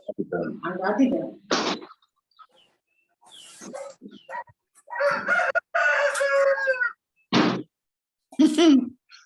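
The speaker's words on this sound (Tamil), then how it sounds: "கோழி கூட்டம்" A flock of chickens clucks and squawks in short bursts, with a rooster crowing loudly and close by between pauses of silence.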